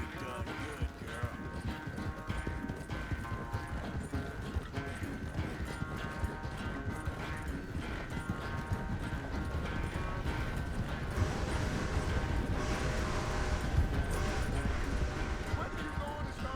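Horse hooves clip-clop in Red Dead Redemption 2 as a steady rhythmic trot under game music and ambience, with characters talking over it.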